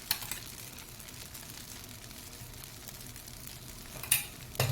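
Low, steady sizzling of a mudakathan keerai dosa frying in oil on a griddle, continuous and fairly faint, with a few soft clicks near the end and no speech.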